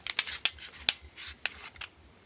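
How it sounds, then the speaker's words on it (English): A ThruNite Catapult V5 spotlight has its head unscrewed, giving a run of sharp, close clicks and scraping thread ticks, several distinct transients spread across a couple of seconds with quiet gaps between. "Or you can unscrew the head off"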